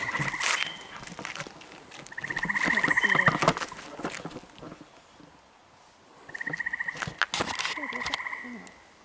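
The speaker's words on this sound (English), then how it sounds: "All you guys hear is frogs, so calm down." Frogs croaking at night in the woods, two long trilling bursts, loud and close with pauses between, while people talk over them.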